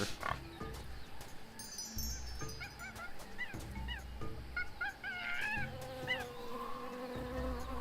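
Buzzing bee in the Tales of Monkey Island video game, a steady insect drone running through the whole stretch alongside game ambience, with brief chirpy bird-like calls layered on top.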